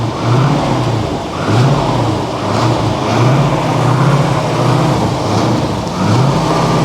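A Corvette C4 ZR-1 engine revving repeatedly, rising and falling in pitch in a steady cycle of throttle blips, loud and close with no talking.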